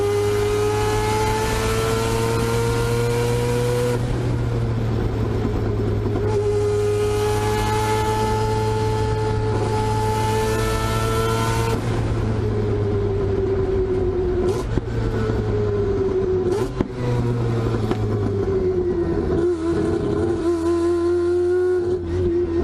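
A turbocharged four-rotor sequential Mazda RX7 revs hard in long rising and falling sweeps, loud and close, with a steady low drone and a few sharp pops between pulls.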